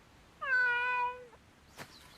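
A cat gives a single clear, drawn-out meow at close range, followed by a soft brief rustle; otherwise quiet.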